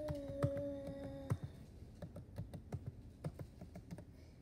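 A computer keyboard being typed on at a moderate pace, with scattered close clicks and a faint tonal whine in the background during the first second or so, and no speech.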